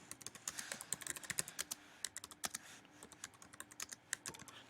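Someone typing a search question on a computer keyboard: rapid, irregular, close key clicks in quick runs with short pauses, quiet and heard alone.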